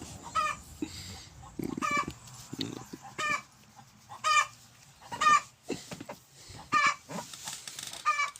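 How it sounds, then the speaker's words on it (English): Backyard chickens clucking and squawking in repeated bursts, some close and loud, with short pauses between calls and faint background noise. "the chickens are going off"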